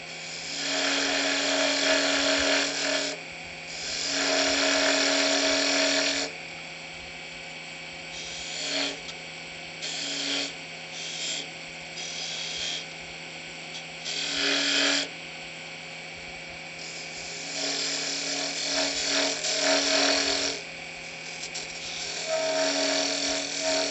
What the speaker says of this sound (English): Again, I'm just using the skew, cutting kind of straight in.